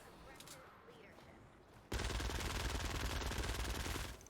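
Gunfire in Fortnite: Save the World erupts abruptly after a quiet stretch, becoming a loud, rapid, sustained burst of automatic shots that continues to the end.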